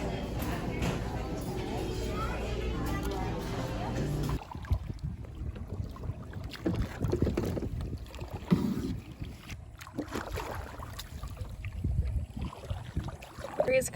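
A kayak being paddled on open water, with steady wind rushing across the microphone at first, then softer paddle splashes and water movement while people talk nearby.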